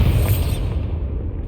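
A Confringo spell blast in Hogwarts Legacy, a loud booming burst up front that rolls into a dense low rumble and fades out over a second and a half, with no voices.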